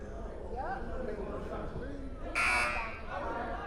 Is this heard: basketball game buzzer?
yes